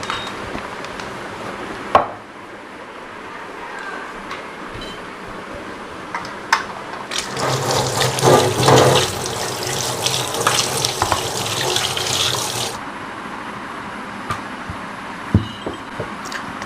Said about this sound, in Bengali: হাতটা ধুয়ে আসি, হাত একদম ভরে গেছে